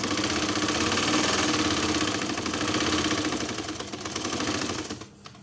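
A sewing machine runs continuously while stitching the sleeve of a baby's nightie, a loud, close, steady mechanical whir with a rapid rhythmic chatter that eases off near the end, with no speech.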